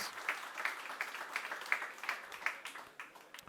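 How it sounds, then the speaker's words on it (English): Audience applause at a conference in Düsseldorf, honoring event partners: a faint, steady patter of many hands clapping throughout, with no voices over it. "please a round of applause for our partners"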